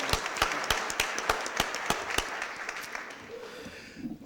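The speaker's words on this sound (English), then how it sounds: "let's give her a big round of applause" Audience clapping at a Board of Aldermen meeting after a prayer, sharp distinct claps standing out over a broader crowd applause that fades out, with a voice faintly starting at the end.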